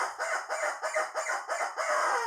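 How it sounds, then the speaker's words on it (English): A rubber chicken toy squawks loudly and close, in a run of about six rapid, rhythmic honking squeals that end in a longer drawn-out squawk, with no talking over it. "And the rubber chicken says,"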